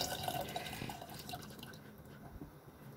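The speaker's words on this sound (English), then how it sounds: "I am adding some more water to this pulp and adding that water also in." Water poured from a tamarind pulp bowl into a pot of dal, a soft continuous splashing and dribbling pour close by, steady through the clip and fading slightly toward the end.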